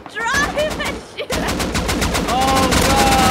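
Loud rapid gunfire in a multiplayer video game while driving and shooting, dense bursts of automatic shots with a brief pause, then continuing, with a player's voice under the shots.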